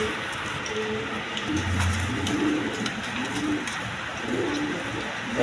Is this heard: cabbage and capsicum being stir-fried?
no